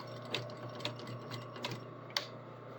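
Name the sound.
sewing machine double stitching a zipper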